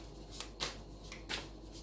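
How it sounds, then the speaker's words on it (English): Tarot cards being shuffled by hand, three or four soft, quick riffling swishes, close and quiet against a low room hum. "So shuffle the cards."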